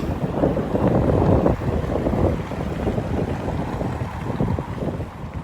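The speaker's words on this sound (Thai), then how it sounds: "ลม ฝุ่น" Strong wind gusts beside a road, blowing dust and roaring steadily into the microphone with a constant rumbling buffet and no voices.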